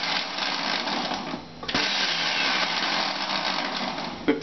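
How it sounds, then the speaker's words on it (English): An electric grinder chops bird food into small bits, whirring in a continuous, close, buzzing grind that dips briefly partway through before resuming at the same level. "With the grinder here"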